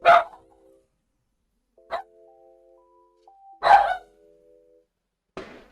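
A dog in a WebGL Rick and Morty tribute game gives two short barks set among soft ding-dong chime tones and sparse electronic blips, with quiet gaps between the sounds.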